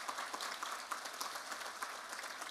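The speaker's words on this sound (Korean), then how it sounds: "우리 격려 박수 한번 해주십시오." A congregation at a church men's mission fellowship Friday prayer service gives encouraging applause, a steady, dense patter of many hands clapping, faint and distant throughout.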